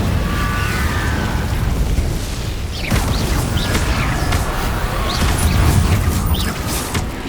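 Incendio fire spell cast in Hogwarts Legacy, a steady roaring whoosh of flame with crackling bursts, loud and continuous throughout with a swell partway through.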